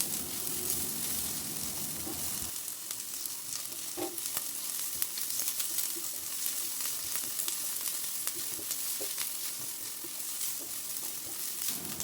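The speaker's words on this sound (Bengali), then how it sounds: "এখানে আমি একটি প্যানে রসুন এবং পেঁয়াজ কুচিগুলো ভেজে নেব হালকা একটু তেল দিয়ে।" Chopped garlic and onion frying in a little oil in a pan, a steady close sizzle and hiss throughout with faint stirring clicks, heavier at the start then settling to an even crackle.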